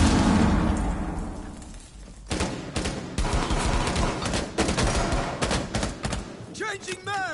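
An explosion and bursts of automatic gunfire from the video game Rainbow Six Siege, in a biohazard-container objective round: a loud blast followed by dense, rapid volleys of shots, with voices calling out in between.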